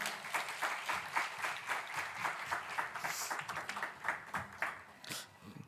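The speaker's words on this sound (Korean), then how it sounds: "우리 큰 박수로 우리 전승현 목사님 환영하겠습니다." A church gathering applauds to welcome Pastor Jeon Seung-hyun at a Thursday Jubilee prayer service, a fairly close crowd clapping in a steady, slightly uneven rhythm that continues for several seconds.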